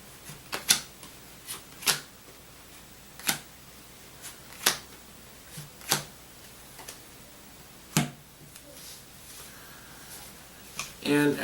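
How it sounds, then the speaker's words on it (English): Cards are drawn one at a time from a board game deck, a series of sharp, quiet snaps and flicks spaced about a second apart over a soft background. "each player is going to draw 7 cards out of this deck."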